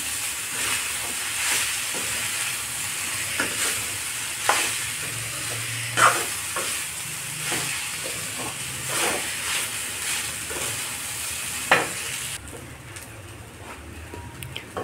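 Cooked rice is stirred into a hot pan for poligiri rice, producing a steady low sizzle and hiss with repeated spatula scrapes and soft knocks at an uneven rhythm, closely miked.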